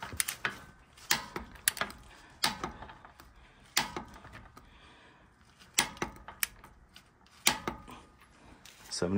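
A torque wrench tightening a tie rod nut to 75 foot-pounds on a 2.5-ton truck: faint, irregular ratchet clicks and metallic ticks close by, with quiet handling noise between them.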